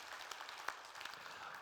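A church congregation claps during a Sunday service, soft and somewhat distant, with a dense patter of hands and a few sharper individual claps.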